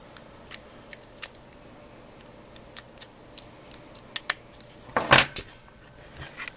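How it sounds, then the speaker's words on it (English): A memory card is pressed into the slot of a Huawei Ascend phone, giving scattered small plastic clicks and taps, with a brief cluster of fiddly scraping and clicking near the end. "the card goes in a little slot there, but with my stubby fingers I can't push it all the way in"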